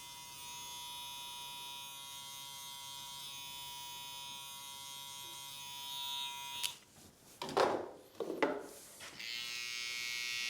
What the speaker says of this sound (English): so we can get our clipper work in